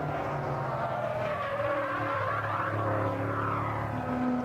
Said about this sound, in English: Can hear the bellow of the Morgan's V8, but can hear the way it's torturing its tyres as well.